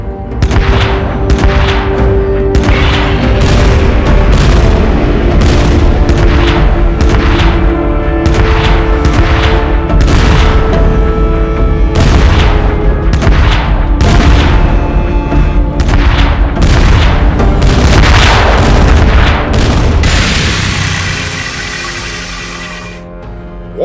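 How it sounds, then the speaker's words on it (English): Sustained battlefield barrage in an animated battle on the Crystal Plains: loud, relentless gunfire and booming artillery blasts for about twenty seconds, then tapering off near the end with no talking. "Why have you stopped firing?"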